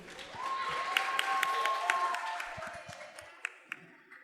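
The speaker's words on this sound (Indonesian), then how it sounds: "tepuk tangan untuk Dewan Juri" Audience at a church family quiz competition applauding the jury, a soft spread of clapping from a room of people that thins out near the end, with a faint feedback whine at the start.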